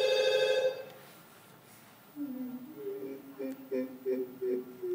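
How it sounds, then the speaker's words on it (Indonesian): A telephone rings during an Indonesian radio call-in show: a bright electronic tone at first, a short pause, then a run of repeated warbling ring pulses, moderately loud. "Ini masih berdering kok"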